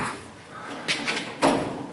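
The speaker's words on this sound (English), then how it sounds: "Let me open this door back up." A car door being opened on a project car in a custom car shop, a short metallic clunk and latch click followed by a louder thud, close up in a quiet room.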